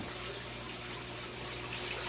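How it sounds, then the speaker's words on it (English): Aquarium air stone bubbling and agitating water, a continuous close hiss-like rush of fine bubbles with a low steady hum underneath, unbroken throughout. "have an air stone in here too, so I feel like these guys can use extra water agitation."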